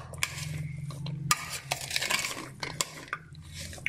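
Mexican salad being tossed in a bowl, with soft clinks and scraping of a utensil against the dish in short irregular bursts, close up and moderately quiet.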